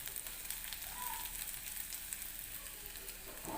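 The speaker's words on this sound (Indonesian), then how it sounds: "tumis bawang merah dan bawang putih hingga layu dan aromanya harum" Shallots and garlic are sautéed in oil, giving a faint, steady sizzle and crackle that runs continuously with no talking.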